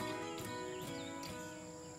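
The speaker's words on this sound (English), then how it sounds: "There's no motor, all you hear is the jungle, the birds" Jungle ambience along the Riri River on Santo, Vanuatu, with a steady chorus of insects and a few bird chirps, no voices.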